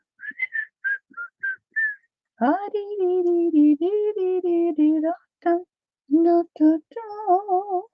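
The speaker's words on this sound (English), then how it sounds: "We'll whistle while we roll." A person whistles a melodic tune in clear, sustained phrases, starting with a few short chirpy notes and then longer wavering lines with brief pauses, close and fairly loud, while working with die cuts.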